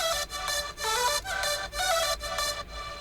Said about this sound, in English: Simple synth as well